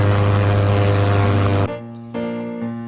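A toy helicopter whirs loudly and steadily with a strong buzzing motor tone, then cuts to softer, shifting motor hum toward the end.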